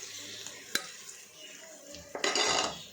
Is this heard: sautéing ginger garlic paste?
yes